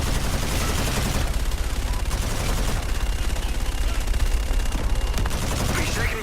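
Rapid, dense gunfire pours down steadily from a called-in fire strike in Call of Duty's Black Sky level, a loud continuous rattle of shots and impacts with no pauses.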